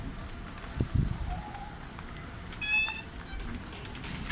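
A pigeon gives a brief cooing call partway through, set against outdoor background noise and a few soft thumps and rustles.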